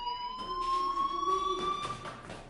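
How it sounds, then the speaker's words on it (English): Fire alarm sounding a steady, piercing electronic tone that rings continuously and fairly loud indoors, with faint background noise around it. "Hey, do you hear that fire alarm?"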